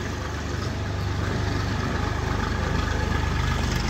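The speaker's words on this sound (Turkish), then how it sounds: "Şuradan bir traktör geçiyor." A tractor passing through a rural village gives a steady, loud low engine rumble that holds throughout, with no talking.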